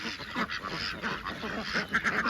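Ducks on a duck farm quack and honk in overlapping bursts, a busy nearby flock calling continuously with a rougher cluster of calls toward the end.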